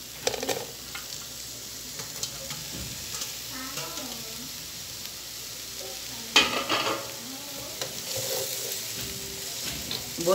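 Vegetables for yakisoba, including onion and bell pepper, sauté in a hot pan with a steady sizzle, punctuated by scraping stirs and utensil clinks, with occasional background voice.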